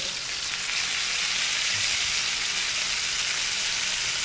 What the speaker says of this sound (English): now that I saute my shallots, my garlic